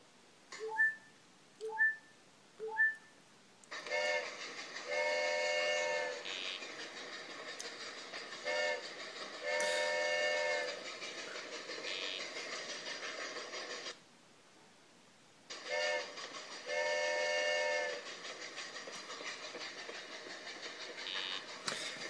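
Cartoonish trains in the Speedy Math Train video game chug along with a rhythmic rolling clatter, broken by repeated sustained whistle-like chords and a few short tooting blips at the start, with a brief gap of silence midway.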